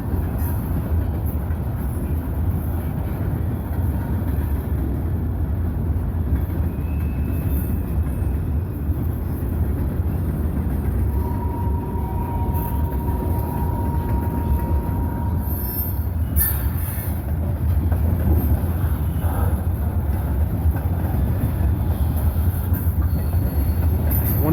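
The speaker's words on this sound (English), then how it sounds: "Check out this classic Canadian Pacific boxcar." A Norfolk Southern manifest freight train eases past at Hamilton, Ohio, including a classic Canadian Pacific boxcar, with a steady close rumble of rolling cars, faint wheel squeal and clicking over rail joints throughout.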